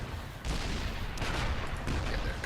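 Gunfire in StarCraft II as units blow up a command center: a continuous rumbling barrage of rapid shots and blasts, fairly loud, with a sharper burst midway and no talking.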